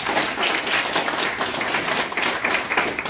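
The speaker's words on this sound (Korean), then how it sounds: "여러분 거기에 다 동의하시면 박수 한번 주세요." Audience applause at a year-end evening gathering in Busan, a short, dense patter of clapping that holds steady.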